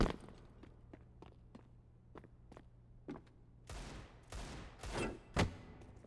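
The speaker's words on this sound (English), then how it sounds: "I wonder if they've been hearing these footsteps in T-spawn, because they've been getting loud" Footsteps in T-spawn on Mirage in a Counter-Strike match, a faint, evenly spaced series of soft distant steps, followed by louder sharp gunshots toward the end.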